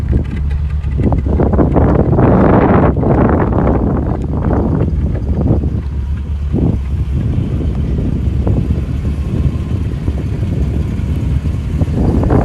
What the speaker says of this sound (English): The car's just ticking over, getting warm.